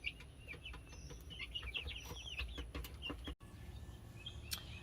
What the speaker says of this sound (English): May have been that breed of chicken, the Isa Browns.